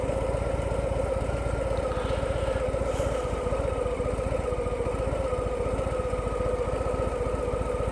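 A steady, low Harley-Davidson Fat Boy motorcycle engine idling nearby, an even throbbing rumble with a faint whir running through it, no voices.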